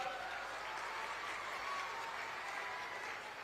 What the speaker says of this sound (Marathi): आपण जरा जोरात टाळ्या वाजवून सरकारचं